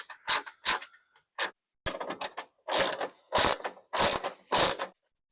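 A hand ratchet works loose the 10 mm headlight bolts on a 2005-2012 Toyota Tacoma, sharp clicking bursts in about nine short separated runs, close and crisp with silent gaps between them.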